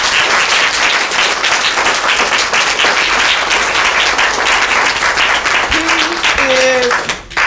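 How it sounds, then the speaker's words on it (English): Audience at a graduation ceremony applauding, sustained dense clapping filling the room for several seconds with a few voices and cheers mixed in, fading out at the end. "can we please give him a round of applause?"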